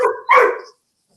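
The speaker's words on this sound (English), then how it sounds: "Sorry if you hear the dog; he's barking right now." A dog barks twice in quick succession, close and loud, then silence.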